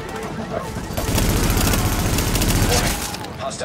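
Sustained rapid gunfire rattles from a gun in Tom Clancy's The Division, loud and close, with a dense burst in the middle of the run, under a speaking voice.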